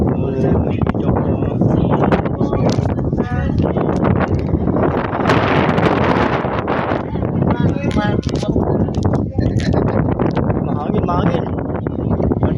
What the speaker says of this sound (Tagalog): Lamig ng kimoy ng hangin.